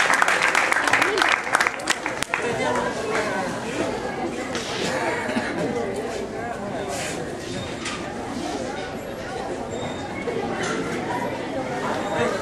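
Crowd applause for the winners of the men's senior category at a marathon awards ceremony, steady and fairly loud throughout, mixed with crowd chatter and a voice.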